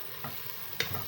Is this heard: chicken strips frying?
yes